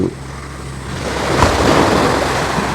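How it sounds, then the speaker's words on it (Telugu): Ocean waves surge and wash onto an Andaman shore at sunrise, a loud, close, continuous roar of surf mixed with wind rumble on the microphone. "ఈ అలలు అలా పైకి ఎగిసి పడుతూ"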